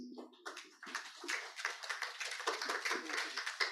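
Audience applause at a national policy dialogue on supporting frontline health workers, welcoming keynote speaker Luis Viñals Torres: dense, steady clapping from a crowd that swells after a brief start and continues evenly throughout.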